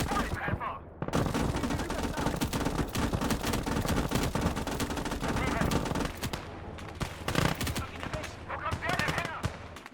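Anti-tank shells and cannon fire in the World War II game Call to Arms: Gates of Hell, Eastern Front battle, a loud sustained barrage of overlapping shots and machine-gun rattle, with a brief quiet start and voices faint under the din.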